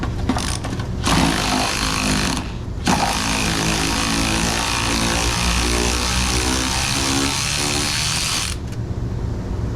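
An electric impact tool or driver whirs steadily and loudly for several seconds, backing a bolt out on the power steering pump of a 3.0 Ford Taurus, with a couple of short bursts before the long run.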